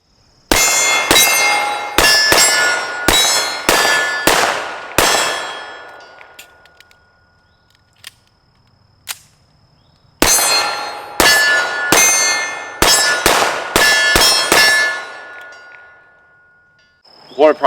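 Shots from a Springfield Emissary 1911 pistol crack in two quick strings of about eight each, every shot ringing off steel targets with a bright clang that decays, separated by a quiet pause with faint chatter.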